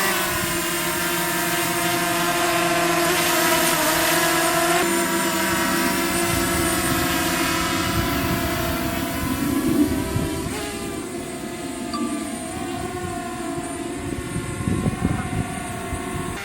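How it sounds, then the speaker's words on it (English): A small camera drone flying over a lake, giving a steady, loud buzzing whine with harmonic tones that shift slightly in pitch as it maneuvers, continuous throughout with light wind. "Hey, we're going to try to fly a drone."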